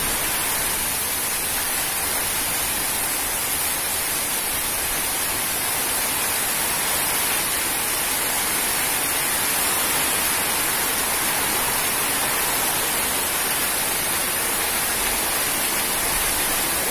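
Heavy rain and strong wind lash Jogja in a storm, a continuous broadband hiss and roar that holds steady throughout without any voices.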